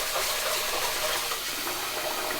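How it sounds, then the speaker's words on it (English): Rice is rinsed under a steady, full gush of running tap water to wash off starch, a continuous close splashing flow with no talk. "I'll always give my rice a little bit of a wash before, just to kind of get that extra starch off out of the way"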